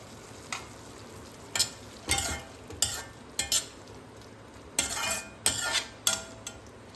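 Vegetables and part-boiled broccoli being stirred in a pan while cooking Maggi noodles, with a run of scraping, sizzling spoon strokes against the pan at an uneven rhythm, close and fairly loud, no voices.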